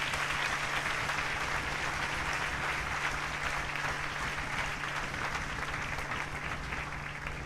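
A congregation claps steadily in a large church hall during a passionate sermon. The applause is sustained and dense throughout, with a low steady hum running underneath.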